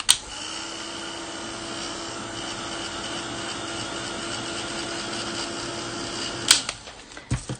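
A heat tool dries gesso on a craft card, giving a steady whirring blower hum that runs for several seconds and then cuts off with a click, followed by light handling sounds.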